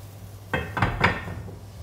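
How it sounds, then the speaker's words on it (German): A lid is set onto a frying pan holding bread, giving three quick, close clattering knocks in under a second over a faint sizzle, then quiet. "So, Deckel drauf"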